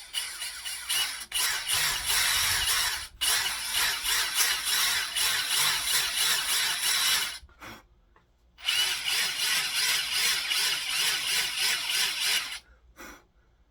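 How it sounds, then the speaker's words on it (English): A power drill runs in two long bursts with a short pause between, its motor whirring steadily as it bores a pilot hole for an axe. "my drill doesn't open up big enough, but I got a pilot hole started"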